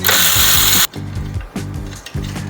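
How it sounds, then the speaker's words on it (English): Bolts come out of a Thumpstar TSB110 pit bike during side stand assembly: a power tool whirs loudly, then short buzzing bursts of an impact driver or ratchet repeat close by in an even rhythm. "we're just going to remove these 2 bolts, have the side stand ready"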